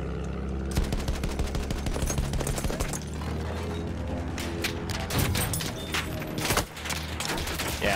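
Dense, continuous gunfire from Battlefield 1, with rapid machine-gun bursts and overlapping shots hammering loudly and without pause across the whole stretch, sharp cracks standing out above the barrage.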